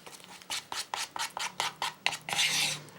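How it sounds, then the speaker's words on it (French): A thick homemade glue-based texture paste is stirred in a container with a regular rhythm of about a dozen scraping strokes, close and moderately loud, ending in a longer scraping rub. "Remuez bien, éventuellement écrasez sur les parois la pâte s'il y a des petits grumeaux"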